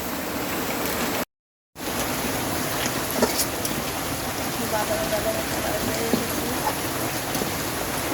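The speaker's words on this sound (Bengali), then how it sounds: "বাইরে প্রচন্ড বৃষ্টি, এই দেখো কি প্রচন্ড বৃষ্টি হচ্ছে বাইরে।" Heavy rain falls outside in a steady, dense hiss of drops on surfaces, continuous apart from one brief silent gap near the start.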